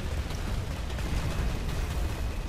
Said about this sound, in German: Das ist nur was explodiert.